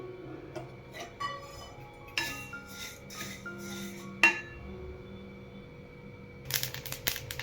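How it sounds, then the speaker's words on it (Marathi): Sesame seeds dry-roast in a pan, giving scattered sharp crackles and small pops, sparse at first and then a quick cluster near the end, faint and close with no talking. "तर इथं बघा मी चांगले असे तीळ बघा चटचट अशा वाजायला लागले"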